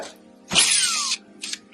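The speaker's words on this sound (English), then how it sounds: "So we're drilling and drilling through" A power drill fitted with a 3/0 bit bores through a locking bar of a double central lock, a loud whining burst lasting about half a second, then a short quieter buzz after a pause.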